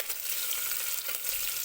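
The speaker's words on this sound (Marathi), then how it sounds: "कांदा सुद्धा छान तेलामध्ये आपल्याला परतून घ्यायचा आहे." Onion sautéing in hot oil for masale bhat, a brief, even close sizzle with soft crackling throughout.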